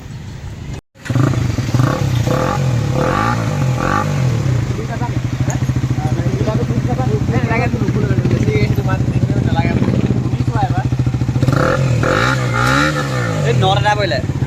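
KTM Duke 250 motorcycle with a modified exhaust, idling close by with a steady throb and blipped revs rising and falling in repeated bursts, with a voice speaking over parts of it.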